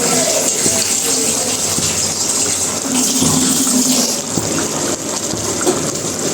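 Water pours into a pan of fish curry to make the gravy, a loud continuous gushing splash that runs steadily throughout with no one speaking.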